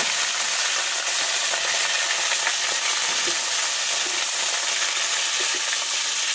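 Cut pumpkin-green stems hit hot oil tempered with nigella seeds, bay leaf and chili, giving a loud, steady sizzle and crackle of frying that runs unbroken throughout, close up with no voices.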